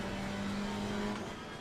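A GT3 race car engine in Assetto Corsa Competizione at Barcelona, a steady droning hum held at one pitch from onboard, then easing slightly, fairly quiet.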